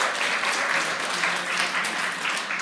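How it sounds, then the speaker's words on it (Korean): Steady, full applause from a church congregation at a Mother's Day service, honoring the Sunday school children. Many hands clap at once in an even, sustained roar, with no talking. "우리 자녀들에게 박수 한번 부탁드립니다."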